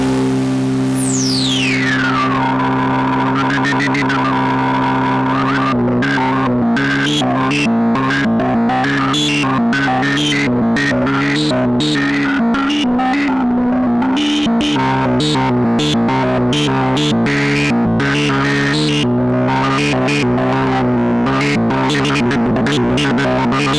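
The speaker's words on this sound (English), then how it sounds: "multi-drive feels like an aging circuit. It just makes everything sound more like you dream an analog synth sounds" A Moog Subsequent 25 analog synth plays with multi-drive distortion. A descending sweep opens into a loud, gritty, crusty rhythmic sequence of driven notes that keeps going without a break.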